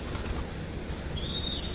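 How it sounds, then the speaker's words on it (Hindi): Pigeons take flight nearby, their flapping wings producing a steady, soft whooshing flutter against an outdoor background. "ये हमारे कबूतर उड़ रहे हैं"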